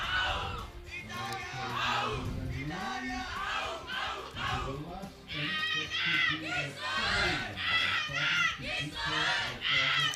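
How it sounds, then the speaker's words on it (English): Team supporters at an archery gold medal match chant and cheer in loud, rhythmic bursts, voices rising and falling together with short pauses between shouts. "the cheering teams have waked up again, Yeah. supporting their archers in trying to get that medal home."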